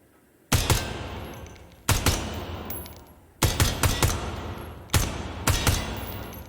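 Four bursts of automatic gunfire from a rifle in the tactical shooter game Ground Branch, each burst a rapid string of sharp, loud shots with a ringing tail, separated by short pauses and with no talking.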